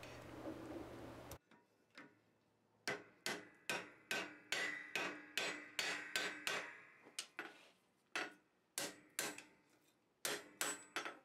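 Steel being hammered on a stake anvil while forging a leather punch: a steady series of sharp, ringing metallic strikes at an uneven rhythm, loud and close, with short pauses between groups of blows.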